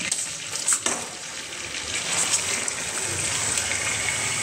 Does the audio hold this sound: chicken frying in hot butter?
yes